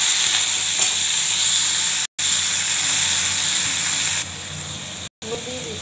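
Bitter gourd and potato pieces sizzle loudly in plenty of oil in a wok, a steady, close hiss of frying that continues almost without a break except for two short cuts.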